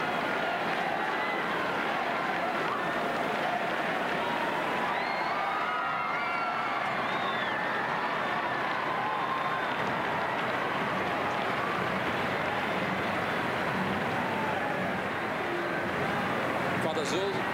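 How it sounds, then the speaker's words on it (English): A huge crowd in Rome cheers for the new Pope Benedict, a dense, distant roar with rising chants that swells and holds steady throughout, mixed with broadcast commentary. "You can hear the crowd already beginning to say is Benedict."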